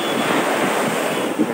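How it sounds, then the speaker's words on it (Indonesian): Ocean surf rolls in at Teluk Batik beach, driven by strong wind that buffets the microphone, a steady, loud, dense roar of breaking waves with no voices. "Sebenarnya takut tengok angin gelombang besar-besar"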